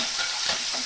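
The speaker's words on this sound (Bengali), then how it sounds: "ডিমটা আমি আগে সিদ্ধ করে নিয়েছি, সিদ্ধ করে অল্প অল্প কেটে নিয়েছি। এখন আমি ভেজে নেব।" Chopped boiled eggs fry in hot mustard oil with salt and turmeric, giving a close, continuous sizzle as they are stirred in the pan.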